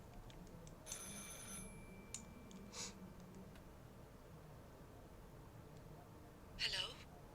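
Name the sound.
telephone ringing in the video game Martha is Dead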